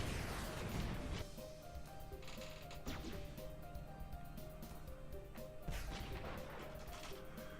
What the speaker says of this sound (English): You can see our extra turrets in here at least doing some damage